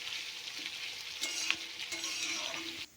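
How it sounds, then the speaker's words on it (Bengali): Onions frying in a pan with a little salt for hilsa biryani give a steady close sizzle, broken by a few light knocks and scrapes of stirring. "পেঁয়াজ ভাজাটা এবার ভালো করে নাড়াচাড়া করে দেবো, যাতে লবণটা সব গায়ে মিশে যায়"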